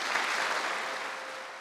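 Sustained applause fills a parliament chamber while the Queen is present. It is a dense, steady wash of many hands clapping close by that fades slightly toward the end.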